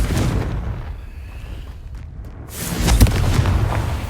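Confringo fire-blast spell in Hogwarts Legacy, a loud booming burst at the start followed by a second heavy explosive crack about two and a half seconds later, with no voices.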